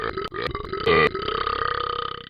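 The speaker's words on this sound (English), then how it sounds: "I'm about to burp." A single long, loud, close-up burp rumbles out for about two seconds, with a brief louder surge near its start and no talking.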